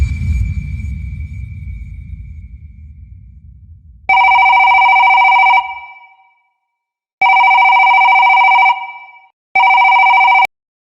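A landline telephone rings in three loud electronic bursts, each about a second and a half long with short gaps between them, in an office after a low rumbling background fades.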